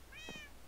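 A cat meows once in a video game pet shop, a short, clear, fairly close mew with no talking over it.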